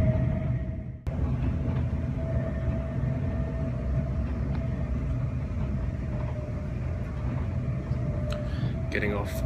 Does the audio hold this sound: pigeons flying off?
no